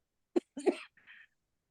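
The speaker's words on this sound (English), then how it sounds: "I'm coughing" A person gives a couple of short, dry coughs close by, followed by a faint throaty trailing sound, in an otherwise quiet room.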